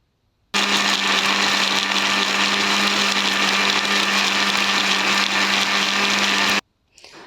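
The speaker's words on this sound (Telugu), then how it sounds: "ఇప్పుడు నెక్స్ట్ ఆనియన్స్ అన్నీ వేసేసి మిక్సీ పట్టేస్తున్నాను." A mixer grinder whirs loudly and continuously for about six seconds as it grinds onions with ginger and garlic, starting abruptly and cutting off sharply, with a steady motor hum and no talking.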